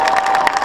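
A crowd at a half-time show cheers and applauds, a short dense burst of clapping and shouting that stays loud throughout.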